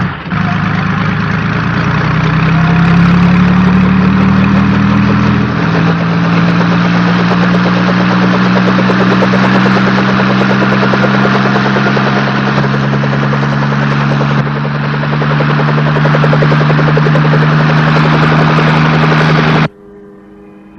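A Magnacopter aircraft from the 1967 Captain Scarlet puppet series lifts off with a loud, steady engine drone and rising rotor-like whine that holds for about twenty seconds before cutting out abruptly.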